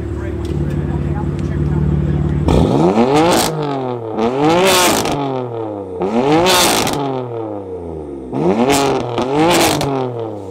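Tuned BMW engine with a downpipe and no muffler, exhaust valves open, revving hard in four loud rising-and-falling bursts after a steady idle, close up, with people talking in the background.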